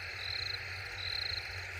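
Crickets trill in two sustained bursts over a quiet, steady background of faint night noise in a farm field.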